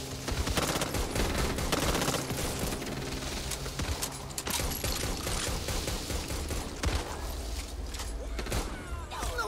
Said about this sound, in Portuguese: Hoffman, acerta a linha de tiro!